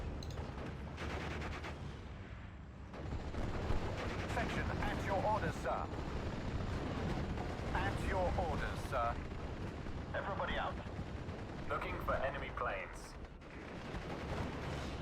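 Mortar and gunfire rumble and crackle in the World War II strategy game Steel Division: Normandy 44 during a Scots ground assault at Sainte-Mère-Église. The battle noise is a dense, continuous low roar with scattered distant shots, and a voice talks over it.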